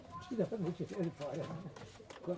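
Bangladeshi high-flying pigeons cooing in a loft, a run of soft throaty coos close by, with someone talking at the same time.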